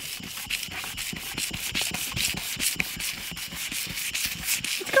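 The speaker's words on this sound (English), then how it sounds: "just sand until we start to see it go" Hand sanding of old paint off a surface during a DIY van build, with quick, regular back-and-forth rasping strokes. The scraping is close and fairly loud, roughly ten strokes per second, with no talk over it.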